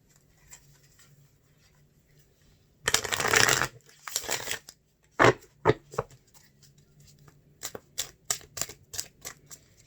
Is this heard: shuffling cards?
yes